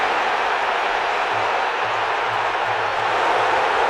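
A college football crowd at the Washington at Utah game in 2018 sends up a loud, steady roar of massed voices. The roar stays even across the whole stretch, with no clear individual speech.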